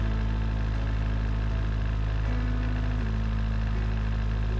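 A simulated car engine runs steadily in the Automation video game, giving a continuous low mid-pitched drone that stays constant and close, with a faint tonal shift partway through and no talking.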